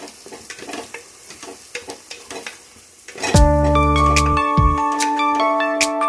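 Mutton curry frying in a pan as turmeric is stirred in, first a series of soft scraping stirs over a sizzle, then a loud ringing metallic clang and resonant tones as the utensil knocks the pan, close and without talk.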